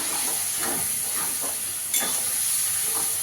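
Onion paste fries in a pan with a loud, continuous hiss, broken by rhythmic stirring scrapes and one sharper knock near the middle.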